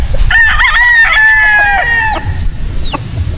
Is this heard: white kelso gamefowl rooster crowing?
yes